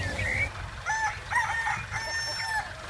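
A rooster crows in a poultry yard, a drawn-out, strained call stretching over several seconds at moderate distance, set against a steady outdoor background hum.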